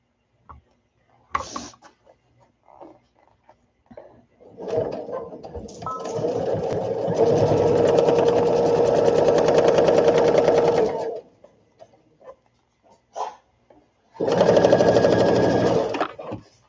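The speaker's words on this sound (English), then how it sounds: "we're going to sew that one shut too" A sewing machine stitching fabric for a baby sunsuit runs in a long steady whir, then stops; after a pause with small handling sounds, a second shorter burst of stitching follows.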